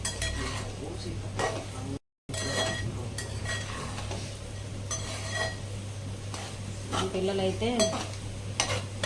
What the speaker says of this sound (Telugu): బాగా ఫ్రై అవుతుంది ఎగ్ అప్పుడు